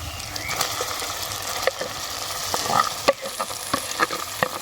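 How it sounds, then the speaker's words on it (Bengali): Marinated fish roe fries in a kadai with a continuous sizzle, broken by sharp pops and spatters and the clink of stirring, fairly close and moderately loud. "আমরা এবার মাখিয়ে রাখা ডিমটা কড়াইয়ে দিয়ে দেবো"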